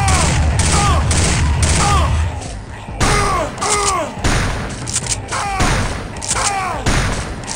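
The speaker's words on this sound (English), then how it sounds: "Shotgun." Repeated loud shotgun blasts in a hardcore Xbox One first-person shooter, booming shots with echoing tails firing in a steady rhythm, close and dominant throughout.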